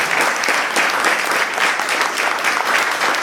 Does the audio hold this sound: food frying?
no